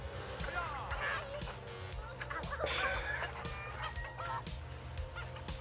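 In the South Park Phone Destroyer mobile game, a chicken coop card sets off a flurry of clucking and squawking hens with game effects, while a person talks over the din.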